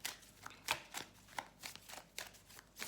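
Playing cards being shuffled for a card reading: a rhythmic series of crisp riffling snaps, about two per second, close and fairly loud with no talking.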